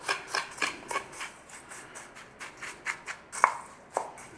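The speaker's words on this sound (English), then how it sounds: "Let's just give this a stir through on these breadcrumbs." A utensil stirring breadcrumbs through a hash brown casserole mixture in a baking dish, giving off a quick run of light, close, irregular scraping and clicking strokes with no talk.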